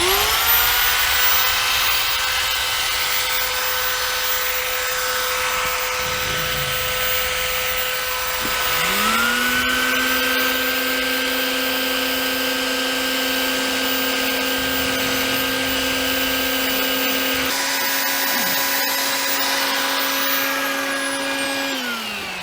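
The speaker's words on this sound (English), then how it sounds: "I'm going to go ahead and start grinding this to make this fit around." A power grinder works on a portlight frame to trim it to fit, a steady high whine running continuously for over twenty seconds with slight pitch shifts as the load changes, loud and close with no talk.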